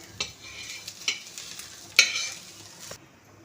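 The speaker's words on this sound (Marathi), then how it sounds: "कांदा पण इथे छान भाजून झालाय बघा, कांदा लसूण दोन्ही पण." Onion and garlic fry in oil in a pan with a soft, close sizzle, punctuated by several sharp stirring taps and scrapes, then quiet at the end.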